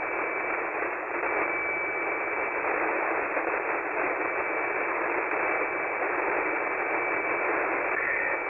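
HF ham radio receiver hiss fills the band, with lightning static crashing on the frequency in a dense, steady wash of noise and no voices.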